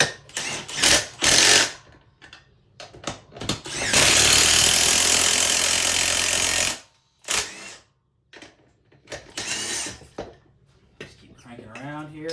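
A BeadBuster tire bead breaker is cranked down and worked around a tire, giving bursts of clanking metal and ratcheting, with one long grinding stretch and short gaps between strokes, close to the microphone.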